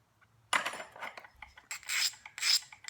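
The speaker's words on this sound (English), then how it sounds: "Cross grinding with a thin abrader at a bevel angle to create platform." Abrasive grinding against the edge of a porcelain knapped point, a series of close raspy strokes in uneven bursts with short pauses between them.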